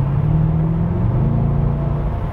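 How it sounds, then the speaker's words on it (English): Mercedes-Benz E63 AMG (2010) engine under a pressed throttle, a steady deep rumble from inside the cabin with the low drone shifting pitch partway through, loud and continuous with no talking. "You'll hear the engine note change."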